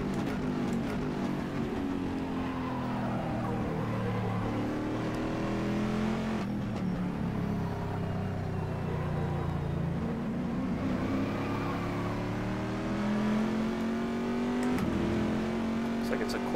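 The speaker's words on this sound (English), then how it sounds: "Looks like it's a Corvette and a..." A Corvette C6R race car's engine drones and revs through gear changes at Silverstone in rFactor 2, steady and loud throughout with a commentator talking over it.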